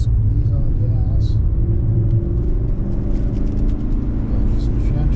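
Car engine pulling hard on a race track during an Audi Quattrofest track day, a loud continuous low rumble that holds steady throughout, with a voice speaking over it.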